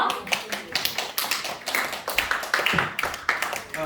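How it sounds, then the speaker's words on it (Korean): Children and teachers at an online Zoom elementary worship service clap together, a steady burst of rapid, slightly uneven hand claps with a few tapping sounds, close and fairly loud throughout. "하나님 앞에 영광의 박수 올릴게요"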